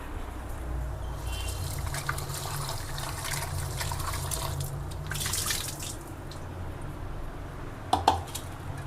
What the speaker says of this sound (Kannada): ಫಸ್ಟ್ ವಾಶ್ ಮಾಡಬೇಕು